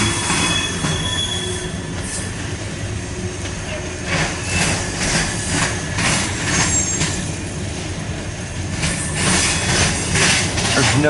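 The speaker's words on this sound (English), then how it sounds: "One auto rack coming into view here," A long freight train with an auto rack car rolls across a railroad diamond, wheels squealing and clattering in loud repeated bursts over a steady rumble close by.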